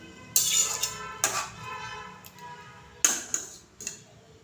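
A spoon stirs water into spices in a pan for a katla fish sour curry, giving several sharp clinks and taps against the metal at irregular intervals, close and fairly quiet, with no talking.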